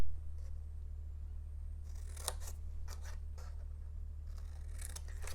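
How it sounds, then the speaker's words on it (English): Scissors snipping a square from paper, a few short crisp cuts in two bursts, close but quiet over a steady low hum. "I'm going to cut just this 1 square off."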